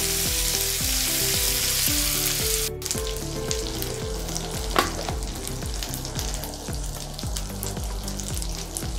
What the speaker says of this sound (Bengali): হলুদ গুঁড়োটা দিলাম যাতে তেলটা চারিদিকে না ছিটিয়ে যায়।